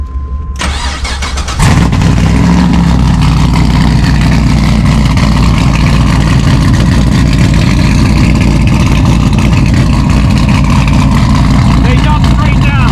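1969 Pontiac Firebird resto-mod with a swapped LS V8, cranking and firing into a loud, rumbling idle with occasional revs, recorded close from the rear of the car, while people talk nearby.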